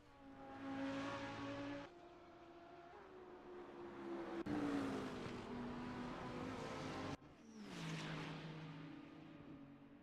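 A BMW M4 race car engine screams loudly at close range, its pitch rising and falling through gear changes as it chases another car in a circuit race, with abrupt cuts between sustained high revving.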